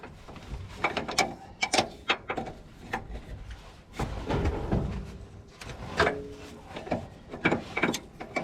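Wrench working bolts on a New Idea Uni corn picker, with close metallic ratcheting clicks and clanks in irregular bursts and brief pauses between turns.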